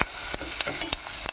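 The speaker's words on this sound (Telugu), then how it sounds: "కొంచెం పసుపు, పచ్చి వాసన పోయేదాకా ఫ్రై చేసుకుందాం." Turmeric fries in a pan with a quiet hiss, broken by several sharp clicks of a spoon scraping and stirring before it cuts off abruptly.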